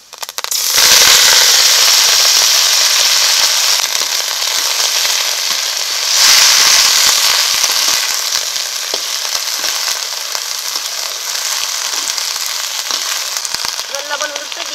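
Ghatkol (taro leaves) hit hot mustard oil already holding fried garlic and black cumin, setting off a loud, dense hiss that surges near the start and again midway, then settles into a steady, close sizzle with faint stirring.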